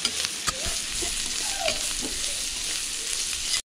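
Pigeon meat sizzles and crackles in a hot iron wok while a utensil scrapes and stirs, with steady frying hiss throughout and a few sharp clinks.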